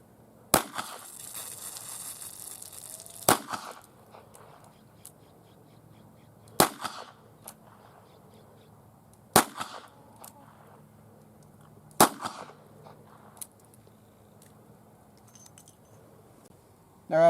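Revolver shots fired with hollow-base wadcutter rounds into wet newspaper, a series of single sharp cracks spaced about three seconds apart, loud and close in quiet surroundings.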